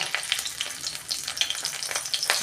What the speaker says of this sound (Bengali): ফোড়ন দিচ্ছি তেজপাতা